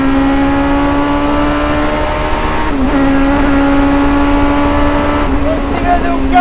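A Westfield Megabusa car's engine revs hard and close through successive gears, a loud sustained high-pitched howl broken by brief dips at each shift.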